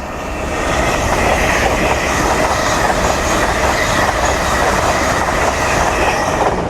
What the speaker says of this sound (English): So pass through NAS and Azuma bound for York.